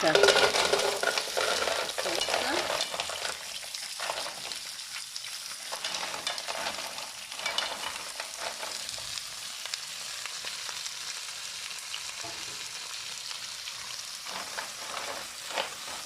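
Garlic fries in a pan for Sicilian spaghetti with mussels, a bright, loud sizzle at first that settles into a steady hiss, broken by occasional stirring scrapes.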